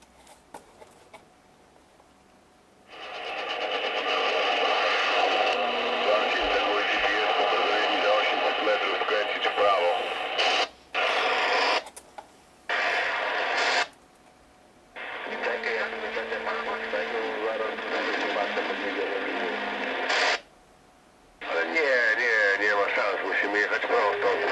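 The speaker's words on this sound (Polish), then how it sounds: "te szumy i zakłócenia będą znacznie większe niż w czasie normalnego użytkowania" Static and interference hiss from a CB radio on a rooftop antenna in Warsaw, a loud broadband rush that comes in bursts, with several abrupt cuts to near silence and a few short gaps between long stretches of noise.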